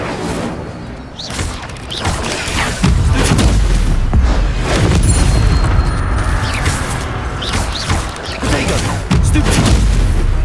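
Incendio fire spell cast during combat in the Hogwarts Legacy video game, loud booming bursts and crashing impacts layered over a dense, continuous battle din with no voices.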